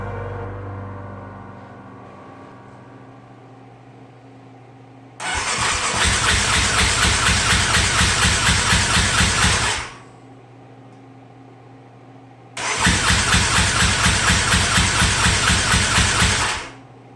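A Yamaha Raptor 700 ATV engine cranks over in two long bursts of several seconds each, a loud rapid rhythmic churning. The motor never catches, and quiet gaps separate the attempts.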